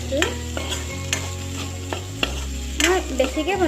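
Mashed potato and goroi fish curry mixture sizzles in a pan under stirring, with a few sharp spatula clacks and scrapes over the constant frying hiss, heard up close.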